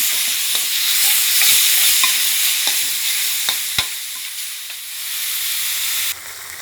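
Pork sizzling in a hot wok for a red curry paste stir-fry, a loud steady hiss and crackle broken by scattered clinks of a spatula stirring, heard up close with no talking.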